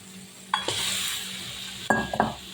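Native chicken meat is dropped into hot spiced oil in a pan, a sharp clatter followed by loud sizzling, then a second clatter and a couple of metallic knocks as it is stirred.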